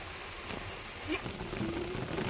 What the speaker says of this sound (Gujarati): જો આ જો હમણાં જ વરસાદ ચાલુ થયો છે